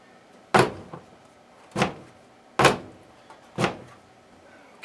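Door of an LG front-load washing machine, model WM0642HW, being pushed shut and latched during a door-lock repair check; four sharp, close thumping clicks spaced about a second apart, alone with no talking.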